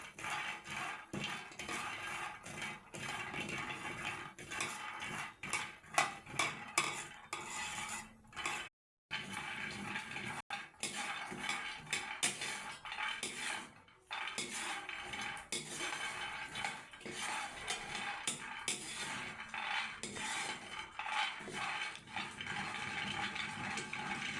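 Roughly 100 grams of peanuts are fried in a pan and stirred continuously, giving a steady busy scraping and clattering of utensil against pan for the whole stretch, with only a brief gap.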